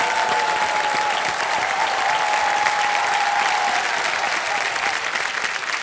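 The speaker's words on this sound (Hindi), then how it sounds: "जोरदार तालियों के साथ उनका स्वागत।" Loud, sustained audience applause in a television quiz show studio welcoming the contestants, a dense, even wash of clapping from a crowd that holds steady throughout.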